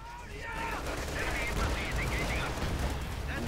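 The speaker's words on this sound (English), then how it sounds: "Puma joining in with his 50mm gun and his coaxial machine gun." Machine gun and rifle grenade fire from the real-time strategy game Company of Heroes 2, with a Puma armored car's 50mm gun and coaxial machine gun joining in, heard as dense, continuous battle noise under a commentator's talk.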